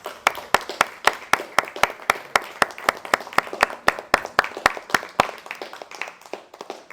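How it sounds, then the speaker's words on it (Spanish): Men in a church congregation applaud the women, a few nearby hands giving sharp, evenly spaced claps in a steady rhythm that thins out toward the end. "Yo quiero que los varones se pongan de pie, por lo menos, y le demos un aplauso a ellas"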